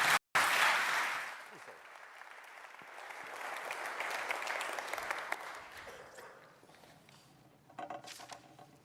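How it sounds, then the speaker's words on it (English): Audience at an energy security session applauds session co-chairs; a strong burst at the start, briefly cut, then softer continuing clapping that tapers off toward the end. "give them a round of applause"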